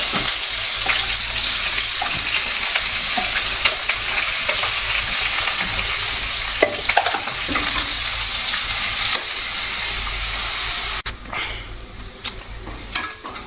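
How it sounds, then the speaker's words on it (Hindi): Onions and fenugreek seeds frying in a pan, a loud continuous sizzle with scraping stirs and clatter, close up, easing to a quieter hiss near the end; no voices. "यहाँ पे मैंने जो प्याज है हल्के से भून दिए हैं"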